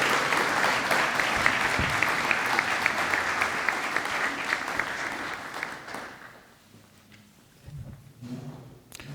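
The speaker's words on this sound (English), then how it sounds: "Please give them a round of applause and congratulations." A university senior breakfast audience gives a round of applause for honored seniors, dense sustained clapping for about six seconds that then dies away into quieter room sounds and a few scattered noises.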